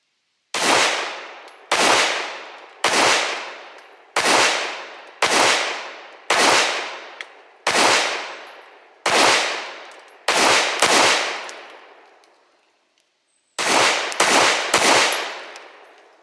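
A Hellcat Pro pistol fitted with a Strike Industries micro compensator and stock spring fires at an outdoor range: about fifteen loud, sharp shots, mostly evenly spaced with a couple of quick doubles and a pause before a final rapid string.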